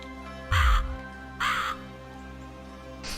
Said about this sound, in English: that raven sound was awful